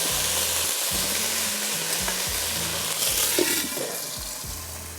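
Ginger garlic paste frying in a pan while being stirred, a loud steady sizzle with repeated scraping strokes over a low rumble, heard close with no speech.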